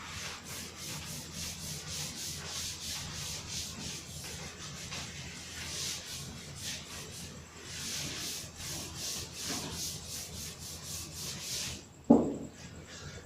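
An eraser rubs steadily across a board while maths working is cleared away, a continuous scratchy swishing with no talk, ending in a sharp knock near the end.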